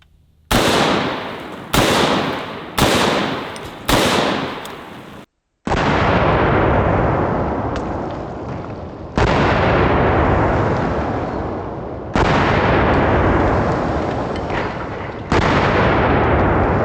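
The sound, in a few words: 50 Beowulf rifle shots hitting 2-liter bottles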